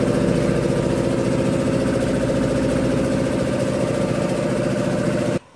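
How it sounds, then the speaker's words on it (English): Loud, steady mechanical drone of the air compressor on a dry sprinkler system running continuously up close, cutting off abruptly at the very end, with no talk. "So the compressor is working very well."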